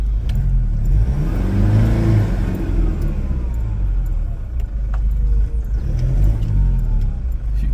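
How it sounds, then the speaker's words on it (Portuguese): A Toyota Hilux with worn suspension, gearbox and timing belt revs and strains while driving through a hole, a loud, low engine drone that rises and falls, heard from close by with faint rattles. "deixa eu ver se dá pra passar pelo buraco."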